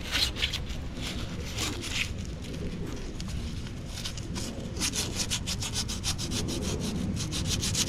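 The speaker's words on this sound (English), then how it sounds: "my little trick is WD-40 and a piece of sandpaper" Sandpaper wetted with WD-40 rubbing a trailer wheel bearing part, a steady close scraping with repeated rhythmic strokes that continues throughout without talk.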